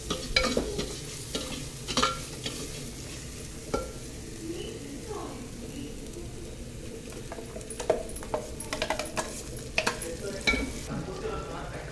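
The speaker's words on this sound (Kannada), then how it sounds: "ಉಪ್ಪು ಹಾಕಿ ಸ್ವಲ್ಪ ಫ್ರೈ ಮಾಡಿದ ನಂತರ ರುಬ್ಬಿರುವ ಮಸಾಲವನ್ನು ಹಾಕಬೇಕು" Tomato masala frying with salt in a pan for tomato rice, a low steady sizzle broken by intermittent spoon scrapes and clinks against the pan, close by with no talk.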